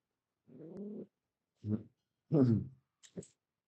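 A pet cat gives several short meows close by, four separate calls with pauses between them, fairly quiet indoors.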